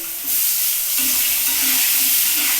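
Potato pieces frying in hot oil in a pan, a loud, steady sizzling hiss that starts abruptly and holds evenly to the end, with no voices.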